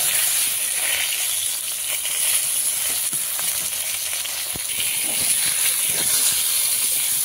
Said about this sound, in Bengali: বেগুনটা লাল লাল করে ভেজে নিচ্ছি